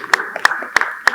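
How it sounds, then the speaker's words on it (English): Four sharp hand claps spaced evenly at a human rights symposium of the Nigerian Bar Association Lagos Branch, loud and close, with faint voices between them. "I think we should clap ourselves."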